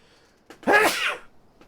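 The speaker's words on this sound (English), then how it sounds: "hold on, I'm gonna sneeze" A single sharp sneeze up close, with a short sharp inhale just before it, then quiet.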